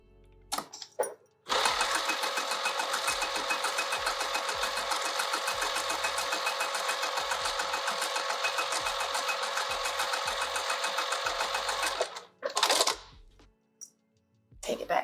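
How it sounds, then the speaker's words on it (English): Sewing machine on the Anna Maria Box stitching the side of an open wide pouch with mesh, a steady rapid needle chatter running unbroken for about ten seconds, close and loud, with brief handling noises before and after. "let's sew this side"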